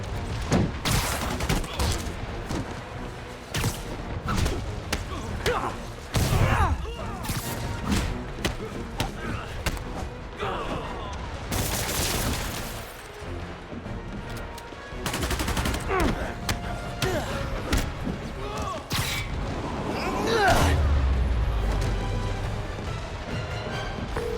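Enemy thugs open fire in the superhero video game Marvel's Spider-Man Remastered, a loud, sustained barrage of rapid gunshots and bursts with thumps and impacts, mixed with game sounds throughout.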